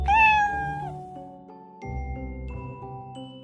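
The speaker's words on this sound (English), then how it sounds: "C is for cat." A cat meows twice in clear, tonal calls, the first long and falling, the second drawn out and steady, close and alone with a brief sharp sound at the end.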